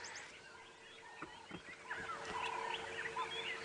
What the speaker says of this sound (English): Tawny eagle calling, stopping to take in the sounds of the bush for a moment.